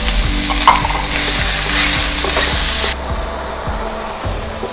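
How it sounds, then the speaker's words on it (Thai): Raw corn and carrots stir-fried together in a pan, a loud close sizzle with regular scraping strokes of the spatula; the hissing drops away sharply near the end while the scraping continues. "ข้าวโพดนี่ก็เป็นข้าวโพดดิบเนาะก็ผัดรวมกันเลย ผัดไปพร้อมๆกันนี่แหละค่ะ"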